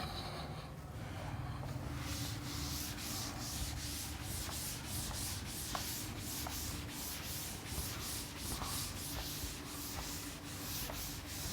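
Rubbing sounds fill a classroom as writing is erased from a board, a continuous close scrubbing with faint rhythmic strokes throughout.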